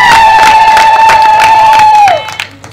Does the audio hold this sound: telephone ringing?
no